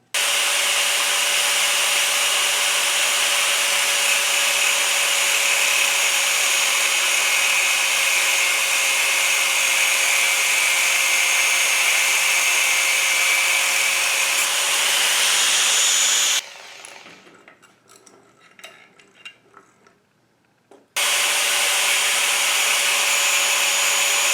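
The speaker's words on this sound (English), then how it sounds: "I'm going to trim my rod to 8 3/4 inches" Metal rod being trimmed to length with a cutting tool while working on an old Craftsman 20hp mower's battery tie-down; a loud steady grinding whine for about sixteen seconds, a few seconds of quiet clatter, then cutting resumes.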